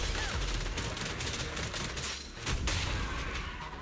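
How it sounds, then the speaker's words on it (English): Video-game gunfire lays down suppressive fire, a dense, loud burst of rapid shots rolling continuously with sharper cracks cutting through. "Suppressive fire!"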